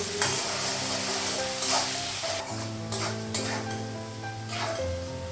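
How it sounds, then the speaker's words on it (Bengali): Onions frying in a pan for a Bengali home-style potato dish, with stirring scrapes and a steady sizzle running throughout, close and moderately loud, without any talk. "পেঁয়াজটা ভাজা হয়ে গেছে"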